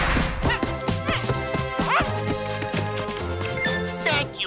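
A cartoon dog in an animated film barks in a quick run of sharp yips and woofs, close and lively, with a few jingling and clattering knocks mixed in.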